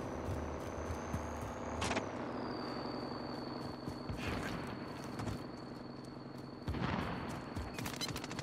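Gunfire in Call of Duty: Warzone, the Modern Warfare battle royale: scattered bursts of shots ring out over a steady engine-like drone, with sharp clusters of cracks near two and seven seconds.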